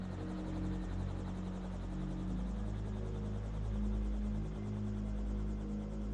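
A Robinson helicopter in flight gives a steady, even drone with a pulsing rotor tone. It holds constant and fairly faint throughout, with no talking.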